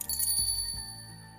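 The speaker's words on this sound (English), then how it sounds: "Alice pulled out a cat's bell from the seam of her mantle and dropped it." A cat's bell dropped in the video game Witch On The Holy Night gives a single bright metallic ring, struck twice in quick succession, then decays into a short fading shimmer with no talk.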